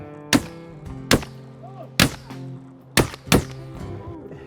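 Five sharp shotgun blasts ring out during a goose hunt from pits in low morning light, spaced unevenly about a second apart, loud and close, with a faint goose call between shots.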